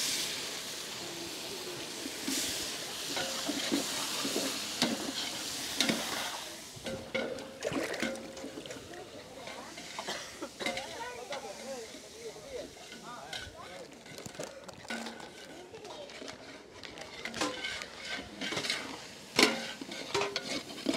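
Lightly crushed shallots sizzle in hot oil with dried red chilies, curry leaves and garlic for a potato curry, stirred with a utensil that scrapes and clinks against the pan while someone talks throughout.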